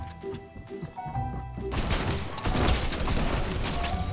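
Sustained heavy minigun fire in the Halo Arena video game, a dense continuous roar that starts partway through after quieter game sounds and stays loud to the end.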